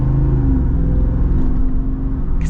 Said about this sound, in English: you can still kind of hear the V8, but it's very muted.